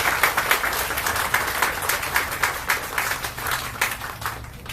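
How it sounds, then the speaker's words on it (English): A crowd applauds city employees at a Leigh Mall time capsule opening. The clapping is close and steady, with individual claps audible in a lively pattering rhythm that eases slightly near the end. "let's give them all a round of applause"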